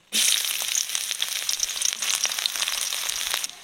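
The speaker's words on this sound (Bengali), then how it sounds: "কড়াইতে সর্ষের তেল দিয়ে দিয়েছি, আর দিয়ে দিচ্ছি একটা শুকনো লঙ্কা, দিয়ে দিচ্ছি পেঁয়াজ কুচি।" Onion and a dried red chilli hit hot mustard oil in a wok with a sudden loud burst, then a dense, steady crackling sizzle that holds close and strong before cutting off.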